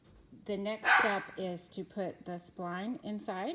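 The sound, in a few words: dog barking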